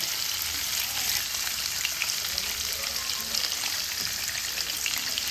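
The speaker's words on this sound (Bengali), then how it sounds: "উল্টে পাল্টে এটা ভেজে নেবে" Paneer pieces frying in oil over a low gas flame, a dense, even, hissing sizzle that runs steadily throughout with no breaks or speech.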